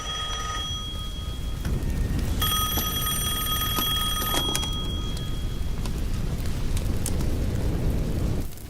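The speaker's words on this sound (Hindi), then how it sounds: "वो फोन है।" A telephone rings in a tense scene from a South Indian action film, its steady electronic tone repeating over a loud, dense background rumble of music and ambience for several seconds.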